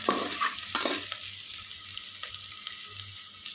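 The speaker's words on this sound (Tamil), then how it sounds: "இந்த ஆனியன் நல்லா கோல்டன் ப்ரௌனாக அழகாக" Onions fry in a pan with light salt, a steady soft sizzle, with a couple of stirring scrapes near the start.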